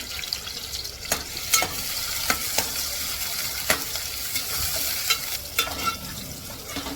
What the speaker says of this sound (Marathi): इथे आता कांदा टोमॅटोसुद्धा ॲड करून चांगला परतून घेते तेलावर